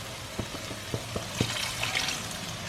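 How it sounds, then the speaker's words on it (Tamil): Water poured into butter chicken gravy with the chicken and its juices, giving a faint splashing trickle with a few soft knocks, quiet and close, with no talk. "போட்டுட்டு கொஞ்சம் தண்ணி விடலாம்."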